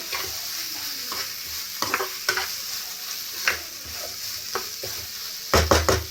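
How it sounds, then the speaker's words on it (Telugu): Button mushrooms shallow fry in a pan with a steady soft sizzle, broken by several sharp scraping clatters of a spoon stirring them, louder toward the end. "కొంచెం షాలో ఫ్రై చేసుకున్న మష్రూమ్స్ ఓకేనా ఇవి బటన్ మష్రూమ్స్"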